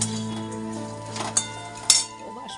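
Dishes clink as they are handled in a home kitchen, two distinct sharp clinks standing out over a low steady hum.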